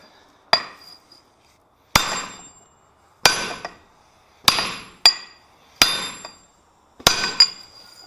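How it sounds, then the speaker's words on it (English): A treadle hammer forging and straightening steel, six loud ringing metallic blows spaced about a second apart, each with a short bright clang and decaying ring, close by with no talk. "that treadle hammer had no problem with it"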